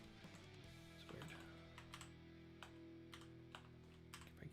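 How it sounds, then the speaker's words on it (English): Fingers type on a computer keyboard in quiet, irregular bursts of soft key clicks over a steady low hum, with no talking. "If I keep typing the same thing,"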